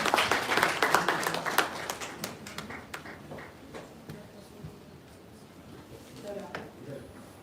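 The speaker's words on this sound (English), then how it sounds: "Give a round of applause, everyone." Applause from a workshop audience, a brisk burst of many hands clapping that fades after about three seconds, with a few scattered claps continuing under faint room noise and murmuring.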